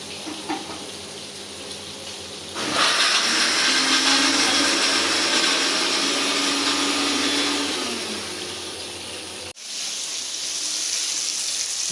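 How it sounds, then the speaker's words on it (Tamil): A mixer grinder loudly whirs as it grinds coconut, fennel and shallots, running steadily for about seven seconds before cutting off abruptly, with quieter kitchen noise before and after. "இப்போ தேங்காய் அரைச்சி பண்ணிக்கலாம்"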